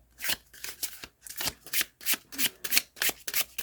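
A deck of tarot cards being riffled and shuffled in repeated quick bursts, close and crisp, with short pauses between each pass.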